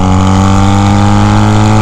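A modified bobber motorcycle engine running loud and close with a steady, throbbing hum that rises slightly in pitch at the end as it revs.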